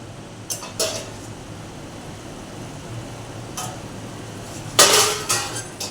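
A plate used as a lid is lifted off a steaming pot in a home kitchen, giving a few light metallic clinks and scrapes, with a louder clatter near the end over a soft steady hiss.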